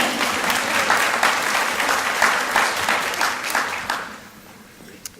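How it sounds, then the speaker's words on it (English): Audience applause at a university nursing school recognition ceremony, a sustained burst of clapping from a crowd that rolls on steadily for about four seconds, then fades out quickly. "we can go ahead and clap"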